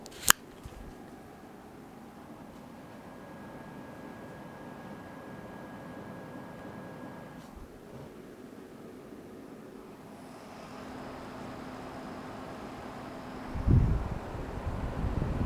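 Steady broadband whooshing fan noise from a Jasminer X4-Q ASIC Ethereum Classic miner, a continuous airy drone that rises slightly toward the end, with a couple of brief clicks and knocks.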